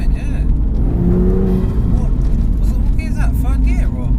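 A 430bhp BMW M2 GTS pulls hard in third gear, its engine roaring loud and close from inside the cabin while people talk over the noise.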